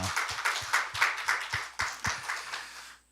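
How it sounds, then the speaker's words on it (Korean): Church congregation clapping in a worship service, a short burst of sharp, rhythmic claps in an even beat, fairly close and clear, stopping abruptly after about three seconds. "우리 하나님께 영광의 박수 올려드리겠습니다."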